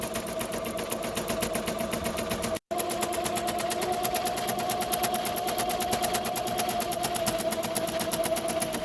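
Ricoma MT 1501 embroidery machine stitching a practice shirt, a steady fast mechanical whir with a rapid regular needle beat that runs unbroken and close except for a split-second dropout, with no voices.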